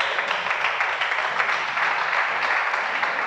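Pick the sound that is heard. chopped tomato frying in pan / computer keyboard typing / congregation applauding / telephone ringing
congregation applauding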